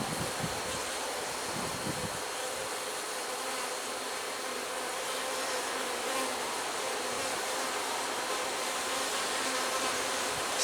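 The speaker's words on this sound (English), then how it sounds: "because that's where all the bee activity is." Honey bees swarm around beehive frames during a hive inspection, a loud, dense, continuous buzzing drone filling the whole stretch close by, with no talk.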